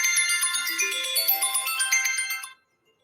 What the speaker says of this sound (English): It certainly rings my phone's bell.